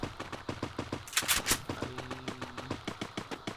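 Rapid Desert Eagle pistol shots in the Free Fire video game, crisp and close, with other quick firing mixed in during a brief, noisy exchange.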